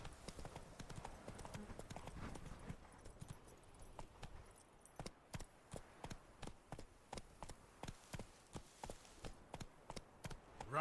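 Roach the horse gallops in The Witcher 3, her hooves striking in a steady, evenly spaced clip-clop that stands out clearly after a dense, rumbling stretch at the start.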